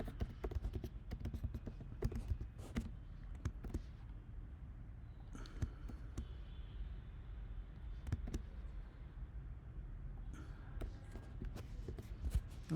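Keys tapping on a computer keyboard while Python code is entered, a steady run of close, light clicks in short bursts with brief pauses between them, no talking.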